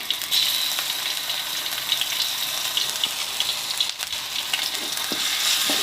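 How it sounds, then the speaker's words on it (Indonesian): Seblak spice paste sautéing in hot oil in a frying pan, giving a soft, continuous crackling sizzle with a few faint stirring scrapes and no talk. "Kita tumis sampai harum."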